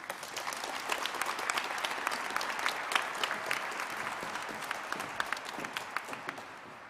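Steady, dense applause from a large audience at a civic event announcing a Detroit professional women's hockey team, a continuous wash of clapping with scattered louder claps, held for about seven seconds without talk.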